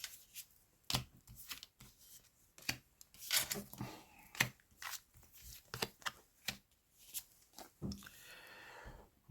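Tarot cards are shuffled and laid down one after another in a quiet room, a string of close, crisp riffles, slaps and papery flicks in an irregular rhythm.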